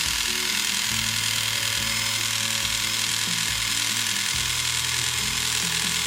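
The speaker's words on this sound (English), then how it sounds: "You just have to press it, and then the drill can turn." A small battery-powered K'nex toy drill with a little motor whirs steadily, a thin buzzing drone with a few shifts in pitch and faint rattling of plastic parts, close by with no talk.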